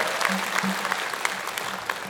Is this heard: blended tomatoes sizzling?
no